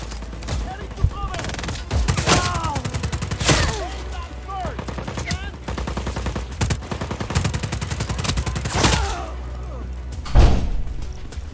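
Bursts of gunfire from the Just Cause 4 video game on PC, several loud volleys of rapid shots with thuds and impacts spread over the stretch, separated by brief lulls, with faint talk underneath.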